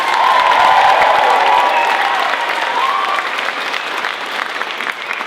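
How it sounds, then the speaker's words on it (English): A theater audience at a high school closing-night show breaks into loud, sustained applause mixed with cheering and whoops, a dense roar that stays strong for several seconds and then eases slightly. "Let's have another round of applause for our stage parents."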